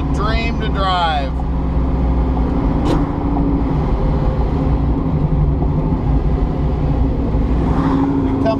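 A 1969 Ford Mustang Mach 1 R Code being driven, heard from inside as a steady low engine drone with road rumble, while someone talks over it at the start.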